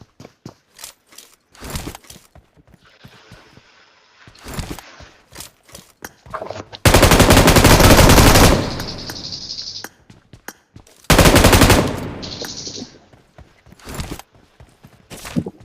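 Gunfire in the mobile battle royale game PUBG Mobile, two loud sustained bursts of rapid automatic fire, each lasting a couple of seconds, between scattered shorter shots and footsteps, with no talking.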